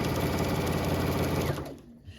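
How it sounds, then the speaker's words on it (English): Sewing machine stitching binding onto a quilt: a close, rapid rhythmic needle chatter with a steady motor hum that slows and stops near the end, with no talking. "and I'm going to start sewing."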